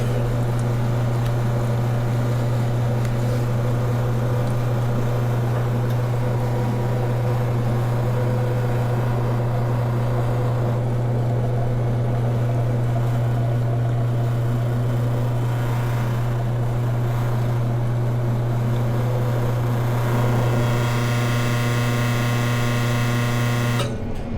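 A loud, steady mechanical hum and buzz of an espresso machine's pump pulling a large shot runs throughout, with a slight change in tone near the end as the machine keeps working.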